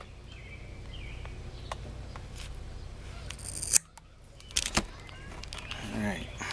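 Goped fuel line is cut straight, with short sharp snips standing out against a quiet background, close by and brief.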